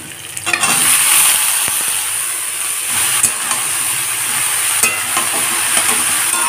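Steady loud sizzling of luffa (ridge gourd) frying in hot oil with fried onion, with occasional stirring scrapes over a constant hiss.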